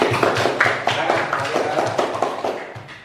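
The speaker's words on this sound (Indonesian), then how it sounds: "kita berikan tepuk tangan untuk kelompok 2" A classroom group claps for the second presenting team, a short burst of fairly close, uneven hand claps that fade after about three seconds.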